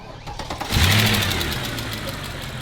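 A Mercedes ML63 AMG engine turns over on a warm start and catches, settling into a steady, fairly loud idle close by, with no voices.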